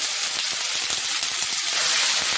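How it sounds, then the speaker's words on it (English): Two chicken breasts sizzle and spit steadily in a hot pan, a close, continuous frying hiss with crackling pops. "I've got 2 chicken breasts. I'm going to put in there and start frying."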